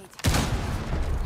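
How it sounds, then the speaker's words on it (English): A frag grenade goes off in a video game match, a sudden close blast after a short quiet moment, followed by a decaying rumble with crackling debris. "Throwing frag grenade."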